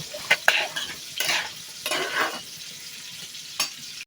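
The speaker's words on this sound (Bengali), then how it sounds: "ফ্রাই প্যানের মধ্যে তেল দিয়ে কুটে ধুয়ে রাখা পেঁয়াজ, কাঁচামরিচ, আলু দিয়ে একটু হালকা করে ভেজে নিব" Sliced potatoes, onions and green chillies fry in oil in a pan, a steady sizzle broken by several scraping stirs and clinks of a spatula, close and fairly loud with no voices.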